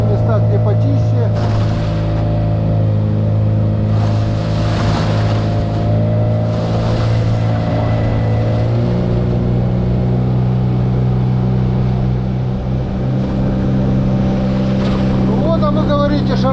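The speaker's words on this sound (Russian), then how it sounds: "Ну вот, а вы говорите, Шармакс плохой мотор." A Sharmax outboard motor drives a boat across water, its steady engine drone loud and close, with strong low harmonics that shift pitch briefly midway as the throttle changes.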